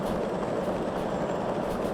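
Steam locomotive running in the Derail Valley game on a tonnage haul in the rain, a steady continuous rumble with rolling wheel noise, close and unbroken throughout.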